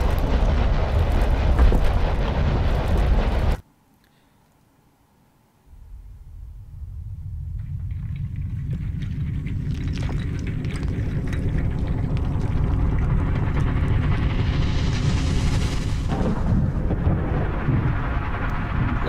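A deep earthquake rumble in the dungeon game Legend of Grimrock, loud and continuous, cut off by a sudden near-silent gap before a low roar swells back and builds steadily, with a rising hiss layered on top.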